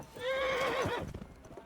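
A horse neighs in the medieval video game Kingdom Come Deliverance 2: one clear whinny rises and wavers for about a second, then soft hoof clops follow, moderately close and fairly quiet.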